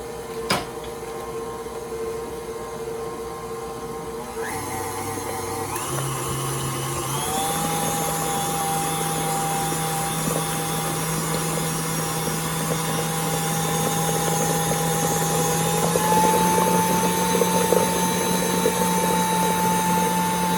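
An electric hand mixer runs steadily through lasagna filling with eggs, its whining motor hum stepping up in speed a few times and staying fairly loud and close throughout.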